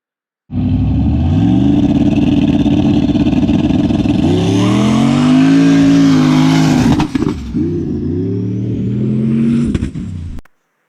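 A boosted race car engine revs hard and rises in pitch, then stutters and misfires from an overly wide spark plug gap, loud and close, before cutting out after about ten seconds.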